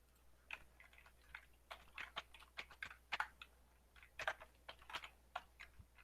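Close, irregular keystrokes on a computer keyboard tapped in short bursts and single clicks, fairly quiet with no talking over it.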